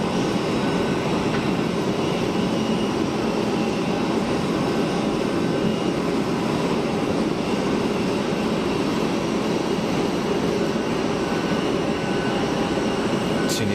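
Tunisair Airbus A320 on its takeoff roll at Geneva Airport, a steady, loud jet engine roar with broad hiss that holds evenly throughout, heard from a spotting terrace.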